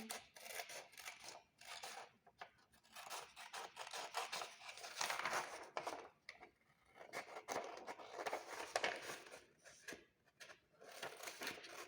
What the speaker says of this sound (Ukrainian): Обрізаємо, вирізаємо сердечко.